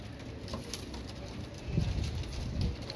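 Pigeons cooing, Kamangar, Kasoori and Dub Walay breeds, soft low calls that swell in the second half over steady background noise.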